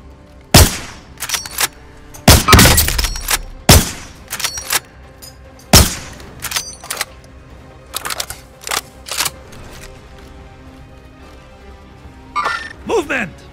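Gunfire in a video game crackles in loud bursts and single shots, some close and sharp, others shorter, scattered over the stretch, with a brief electronic sweep near the end.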